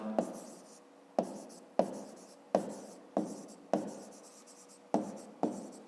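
Pen strokes on paper while a math solution for a fifth-grade word problem is written by hand: eight sharp scratchy onsets roughly every half second to second, each trailing into a soft scraping tail, close and fairly quiet with no talking.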